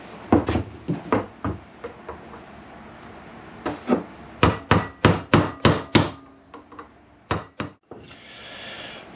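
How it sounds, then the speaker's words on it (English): Hammer blows on a chisel driving out carburettor screws on a 1998 Kawasaki ZX9R, a series of sharp metallic knocks, first scattered, then a quick run of louder strikes and a few final taps. "I've got them all out with a chisel and a hammer."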